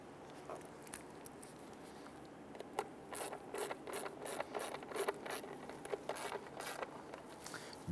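Screws being driven into the fuel pump cap on a 1994-2004 Ford Mustang, heard as a run of quick ratcheting clicks and short mechanical bursts that grow busier in the second half, close by over a low background hum.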